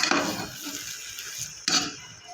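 A utensil scrapes and clinks against a pan while fried rice is stirred over low heat, two short clattering strokes with a quiet gap between them.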